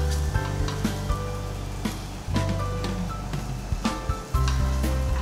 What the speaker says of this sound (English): to fry this from both the sides until slightly golden in color